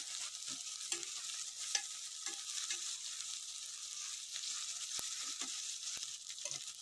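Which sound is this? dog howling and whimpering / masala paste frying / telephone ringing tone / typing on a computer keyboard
masala paste frying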